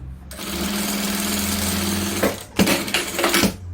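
A sewing machine stitching fabric made from old jeans, a close, loud steady whirring run of stitches that stops, followed by a few short uneven bursts.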